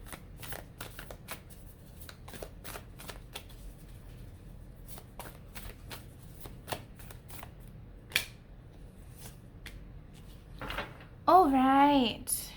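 Moonology oracle cards being shuffled by hand, a steady run of soft riffling and sliding card sounds with brief taps, fairly close, followed by a louder rustle near the end.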